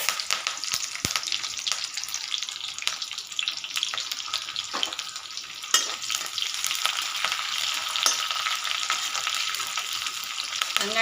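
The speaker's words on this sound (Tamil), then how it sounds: "இப்போ தாளிக்கிறதுக்கு கருவேப்பிலையும் வெங்காயத்தையும் போட்டுக்கணும்." Oil sizzles and crackles steadily as curry leaves and onion fry in a pan for vendakkai pachadi, with occasional stirring clatter and no talking.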